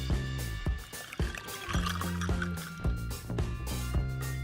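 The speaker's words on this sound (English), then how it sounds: "Add water to 15 tablespoons of dry cement." Water trickles and splashes as it is poured onto about fifteen tablespoons of dry cement powder for a mold, a continuous close liquid pour with small drips over a low background.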